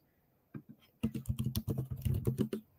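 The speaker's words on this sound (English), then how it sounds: "I'm typing into YouTube" Fingers type quickly on a nearby computer keyboard, a dense run of light clicking keystrokes after a couple of tentative taps, with no talk.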